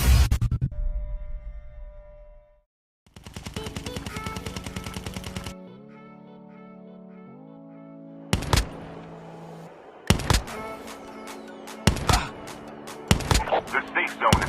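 SMG gunfire in the Call of Duty Mobile video game, rapid automatic bursts mixed with sharp single shots and game tones, loud and close, with pauses between bursts.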